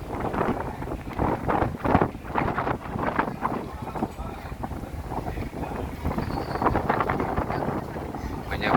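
Strong wind buffets the open deck of a ferry crossing the Sunda Strait to Merak, Banten, a continuous loud roar of gusts rushing against the microphone with engine and water noise beneath.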